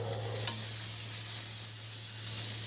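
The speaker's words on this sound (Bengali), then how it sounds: "পেঁয়াজ ফোড়ন দিচ্ছে।" Onion dropped into hot oil after nigella seeds, sizzling steadily and stirred in a pan while cooking a Bengali pomfret jhal; a continuous close frying hiss with a brief clatter early on, no talk.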